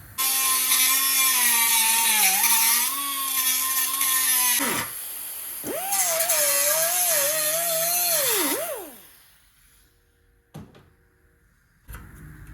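A loud power tool whines steadily while cutting tack welds on the firewall of a 1979 Plymouth Volare wagon, in two long bursts with pitch dips under load, then winding down into quiet with a couple of clanks.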